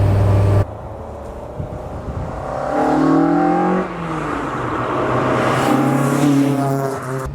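A rebuilt Zetec-powered Mk2 Ford Escort engine, upgraded to about 225 brake horsepower, revs up loudly and close by, its note rising and holding in sustained pulls with a brief dip midway.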